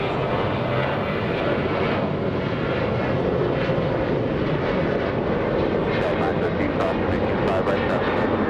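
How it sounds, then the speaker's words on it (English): A Delta airliner crosses the runway at Los Angeles International Airport, its engines making a steady, loud broadband roar that holds throughout with no letup, while people talk faintly underneath. "Delta crossing the runway."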